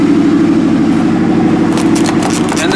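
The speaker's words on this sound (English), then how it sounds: "I just remote started the truck while I was walking over here" A remote-started Ford F150 pickup truck idles nearby in cold Pittsburgh weather, a loud, steady low engine drone with faint rattling and jangling near the end.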